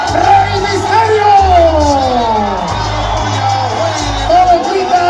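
A lucha libre wrestling crowd shouts and cheers in a continuous loud roar, with rising and falling chants, while a commentator talks over it.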